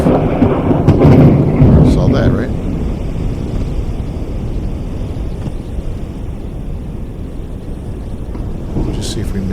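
Video game Forever Skies thunderstorm: a loud thunder rumble early, then steady rain and wind noise, with a brief spoken remark over it.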